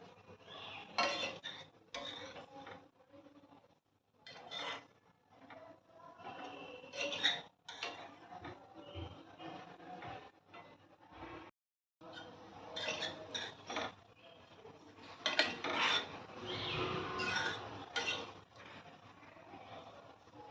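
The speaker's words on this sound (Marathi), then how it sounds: "अशा पद्धतीने मस्त असं तुपामध्ये छान परतत राहायचं आहे आपल्याला" Moong dal fried in ghee is stirred in a pan, giving soft, uneven scrapes and light clinks of the spoon against the metal. The sounds come in irregular bursts at a moderate, close level.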